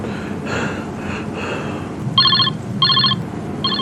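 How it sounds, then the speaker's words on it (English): A telephone ringing in the horror video game Silent Hills P.T., repeated electronic bell bursts in a steady rhythm, loud and near, with heavy breathing and gasps before it. "I hear a phone call."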